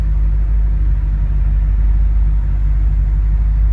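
A deep, steady engine rumble from an original 1967 Shelby Mustang GT500 idles continuously, loud and close, with no talking over it.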